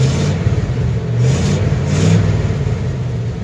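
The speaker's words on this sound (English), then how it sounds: "Can I get a little rev real quick?" A 1978 Chevrolet C60 truck with a 350 engine revs up, a loud, close, steady low-pitched roar rising and falling in pitch across a few seconds.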